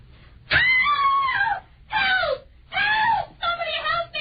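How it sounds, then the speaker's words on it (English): A woman screams and wails in an old radio drama, four loud drawn-out cries separated by brief pauses, close and alone. "What was she screaming about, mister?"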